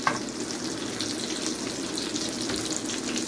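Breaded milanesa steak fries in a hot pan over moderate heat, a steady close sizzle with continuous crackle and fine spattering throughout, no voices.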